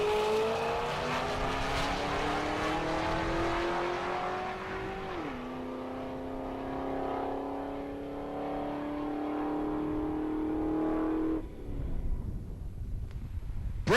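A Buick Skylark and a Pontiac GTO drag racing at the Great Bend, Kansas dragstrip, engines roaring loudly with rising revs and clear gear-shift drops as they pull away, fading toward the end.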